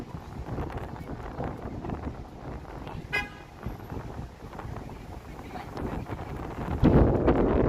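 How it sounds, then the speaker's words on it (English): Strong wind gusting on a downtown Toronto street, a broad rough rumble across the microphone, with a brief vehicle horn toot midway and a louder buffeting gust near the end. "Holy wind."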